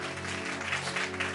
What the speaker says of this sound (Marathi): जरा जोरदार टाळ्या प्रभूसाठी.